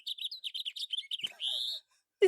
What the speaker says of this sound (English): Apparently there's a house finch nearby, and so this is one of the calls.